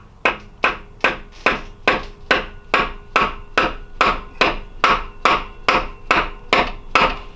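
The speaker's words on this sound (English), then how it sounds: "you can use a hammer, but make sure you're hitting flat. And just kind of tap it lightly." A hammer lightly taps a socket during an Acura RSX clutch replacement, about two strikes per second, each a short metallic knock, steady and close with no talk.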